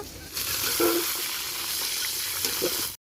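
Potato pieces seasoned with salt and turmeric fry in hot oil in an outdoor rooftop cooking setup, a steady, bright sizzle with a few stirring clatters, close and continuous before cutting off abruptly.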